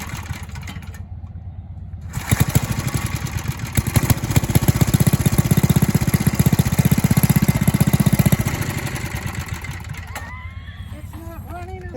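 A vintage motorbike engine on partial choke sputters and runs roughly in a loud, steady burst of several seconds, then fades back toward quiet, with people talking around it.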